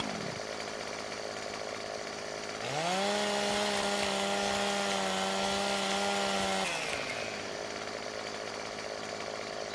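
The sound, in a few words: chainsaw trimming a tree in video game Farming Simulator 17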